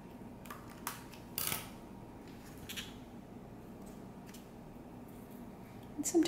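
A few sharp scissor snips trim loose fibre tails from a cork bark mount holding a Prosthechea orchid. The cuts are close, brief and spaced apart over a quiet background.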